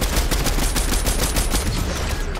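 Rapid gunfire in the video game Fortnite, a loud dense burst of repeated shots filling the whole moment.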